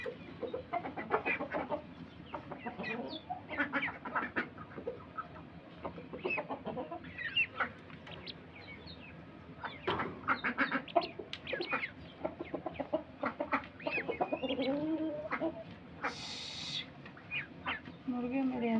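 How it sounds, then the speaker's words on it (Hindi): Chickens cluck and scratch about near a cot in a rural courtyard, with scattered soft clucks and rustling spread across a long stretch at moderate, fairly close distance. "मुर्गे मेरे आज खुले हुए हैं तो अभी वो आहिस्ता आहिस्ता यहाँ पे आ रहे हैं।"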